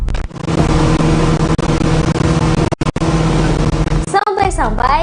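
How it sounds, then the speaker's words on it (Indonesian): A speedboat engine roars loud and steady, a dense broadband drone that fills the scene from start to finish, with brief dips near the middle and voices becoming audible over it toward the end. "Deru suara mesin speedboat terdengar cukup kencang."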